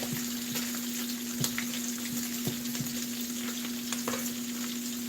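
Bacon frying in a pan, kept at a steady close sizzle with occasional crackles and pops and a low constant hum underneath, no voices.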